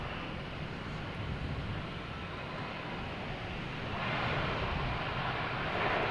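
A British Airways airliner arriving at Boston Logan Airport, a steady distant jet roar that swells slightly toward the end, with no talk over it.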